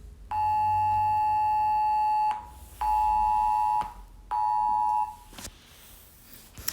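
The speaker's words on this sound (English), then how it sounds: "that's alarm." An electronic alarm in a home kitchen sounds three loud, sustained beeps separated by short gaps, each a steady high tone ending abruptly, with no voices.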